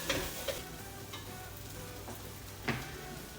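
Food fries in a pan with a soft, steady sizzle, broken by a few scraping knocks of a utensil stirring it, close and quiet, with no speech.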